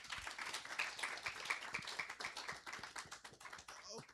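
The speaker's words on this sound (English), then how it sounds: "can we please clap for our panelists?" An audience of a breakout session claps for a panel of speakers, light scattered hand claps of a small crowd, fairly faint and distant, with a voice audible near the end.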